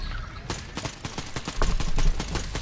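Video game gunfire: a rapid series of about a dozen sharp, loud shots in an uneven automatic rhythm, close and dominant over a low background hum, growing denser toward the end.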